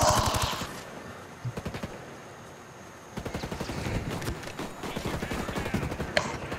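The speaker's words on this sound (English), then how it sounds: "Who's shooting at me?" Gunfire in Ghost Recon Breakpoint, rapid automatic bursts starting and stopping in several volleys, moderately loud and close, with a brief lull midway.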